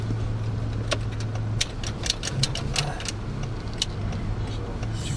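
A Land Rover Discovery 2 engine idles and rolls slowly while parking, with a low steady hum, a few clicks and rattles scattered over it.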